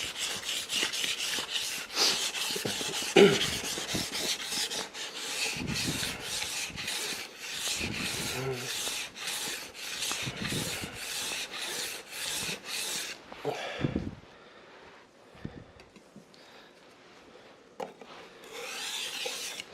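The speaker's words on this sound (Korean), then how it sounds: "세 군데로 나눠서 보통 갑니다. 칼을. 위도 갈고 중간도 갈고 아래도 갈고" Kitchen knife being ground on a whetstone in repeated back-and-forth rasping strokes, close and fairly loud, in a continuous rhythmic run for most of the time, then fading to a few softer, sparser strokes near the end.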